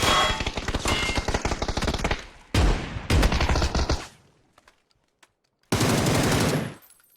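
Loud, close automatic gunfire from PUBG on the Sanhok map, coming in three long sustained bursts separated by short gaps, with a few faint distant pops in between.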